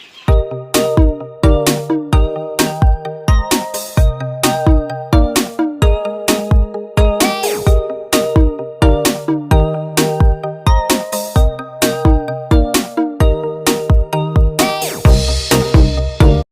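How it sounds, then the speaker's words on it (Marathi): A loud, repeating electronic melody rings in a steady rhythmic loop of plucked tones, continuing without pause and without any voices. "आला फोन आला काय फोन पप्पांचा"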